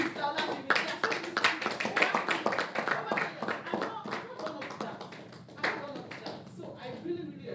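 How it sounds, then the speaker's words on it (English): Scattered, uneven clapping from an audience at a trading master class, honoring a guest. The claps are loud and close with voices and chatter running underneath throughout. "Please put a round of applause for Mr. Olajimi"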